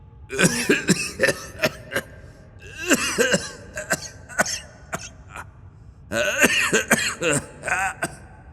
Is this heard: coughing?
yes